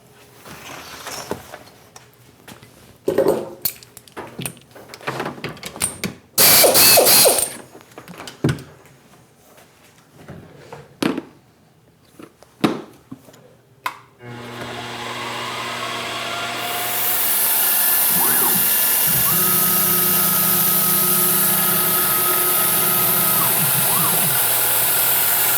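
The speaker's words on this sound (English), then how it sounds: "next we need a spotting drill to spot the hole there" A spotting drill spots a hole in a hand scraper clamp on a machine. Scattered clunks and knocks of setup come first, then a steady loud motor hum and cutting whine take over, with no talk.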